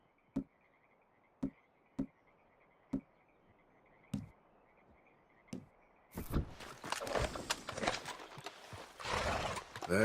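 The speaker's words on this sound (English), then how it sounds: "How's that horse treating you?" A horse in Red Dead Redemption 2 strikes out a few spaced, clear hoof clops over a steady background hum, then a loud burst of busier movement and snorting takes over for the final seconds.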